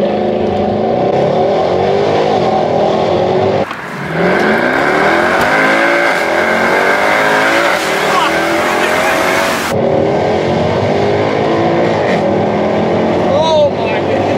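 A Mercedes C63 AMG V8 revving out to 7,000 rpm on the street, a loud, rising engine roar that climbs in pitch, cuts and swells again, recorded from inside the car with talk over it.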